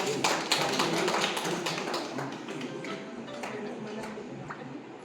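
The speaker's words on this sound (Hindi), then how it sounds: "तालियां हो जाए एक बार" Audience applause at a Hindi poetry recital, a scattered crowd clapping that starts fuller and thins and fades over five seconds, fairly faint and distant.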